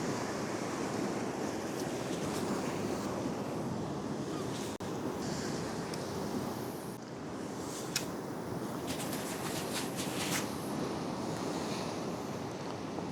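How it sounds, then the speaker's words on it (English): Surf rolling in and splashing on a rocky shore, a continuous loud wash of breaking water with gusty wind buffeting the microphone and occasional sharper splashes, heard up close with no talking. "I'm just watching the surf as it comes in, seeing where it's coming up to, seeing where it's splashing up to"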